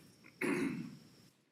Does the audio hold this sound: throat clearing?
yes